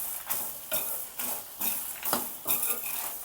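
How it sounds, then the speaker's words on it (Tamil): Coriander seeds roasting in oil in a pan, stirred in regular scraping strokes about every half second, each with a soft rattle over a quiet sizzle, close and fairly quiet. "அதையும் இதோடு சேர்த்து ஒரு 2 நிமிஷத்துக்கு நம்ம நல்லா வந்து வறுத்துக்கலாம்"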